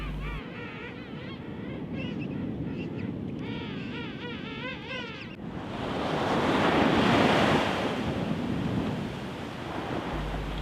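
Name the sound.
rough surf and waves on a beach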